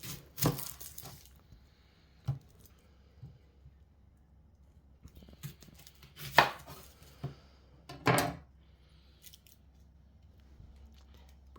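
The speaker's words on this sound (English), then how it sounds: "cut the onion" A knife cuts an onion on a cutting board while making a korma curry, a few sparse, irregular chops spread out with quiet gaps between them.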